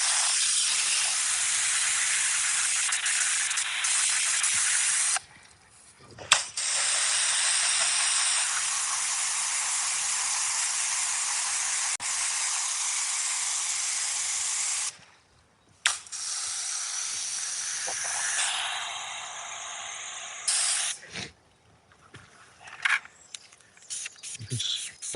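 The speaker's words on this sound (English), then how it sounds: "Spray the wheel down first." A trigger sprayer sends cleaner onto a car wheel in a few long, steady hissing bursts up close, each broken off by short pauses. A couple of quick spritzes follow near the end, and no voices are heard.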